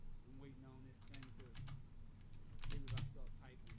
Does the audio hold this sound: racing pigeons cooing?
no